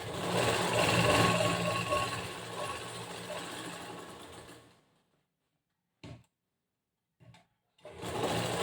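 A sewing machine stitches a cross belt for a blouse front panel, humming steadily up close for a few seconds, then stopping, with two short bursts of stitching before it runs again.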